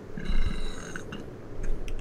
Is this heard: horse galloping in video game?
no